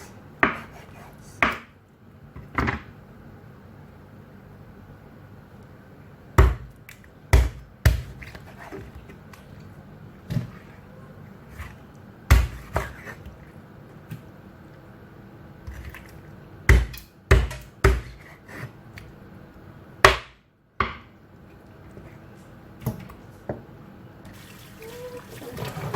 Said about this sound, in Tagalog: I cut the chicken